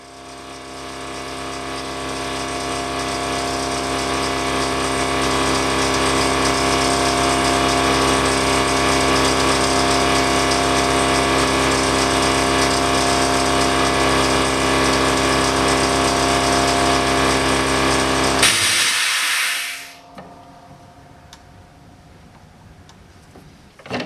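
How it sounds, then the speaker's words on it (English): Air compressor running steadily and loudly for about eighteen seconds to pressurize the fuel tank of a 1979 John Deere Cyclone 340 snowmobile, with a dense mechanical drone that then cuts off abruptly, leaving quiet shuffling handling sounds. "I'm going to fire up the compressor here and we'll try and just force a little bit out"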